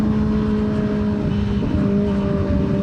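A Kawasaki ZX25R motorcycle engine drones loudly and steadily during a ride, a sustained close-up tone with faint rushing wind and no speech.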